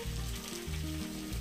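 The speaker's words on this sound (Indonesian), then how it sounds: "Kita goreng-goreng." Stuffed tofu with vegetables frying in hot oil, giving a continuous close sizzle and crackle at low volume, with no voices.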